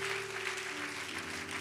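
A church congregation claps and cheers for Jesus in a dense, continuous wash of applause, with a sustained tone underneath.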